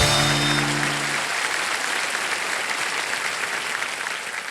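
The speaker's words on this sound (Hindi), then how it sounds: "एक बार ताली हो जाएगी" A television studio audience breaks into sustained applause after a celebrity's first stand-up performance. The clapping is dense, even and moderately loud, with a brief musical sting at the start.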